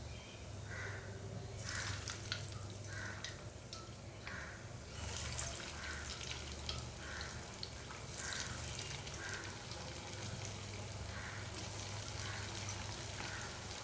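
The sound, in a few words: frying upvas kachori in oil in a wok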